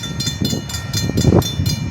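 End of a passing freight train on the line at M156 in Morenci, Michigan, with rhythmic clickety-clack of wagon wheels over rail joints, fairly close and steady, no talk.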